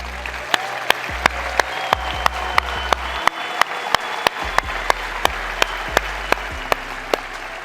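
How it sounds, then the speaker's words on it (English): Audience clapping at a motivational talk by Gary Vaynerchuk, a steady wash of crowd applause with a few sharp, louder claps standing out at a regular pace over the sustained clatter. "please stand up so I can clap for you and so people can clap for you"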